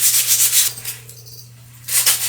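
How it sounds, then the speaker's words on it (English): Hand sanding a small defect on a piece of wood, close rhythmic raspy rubbing strokes that pause midway before resuming, over a steady low hum. "I'm going to see if I can sand that down some more."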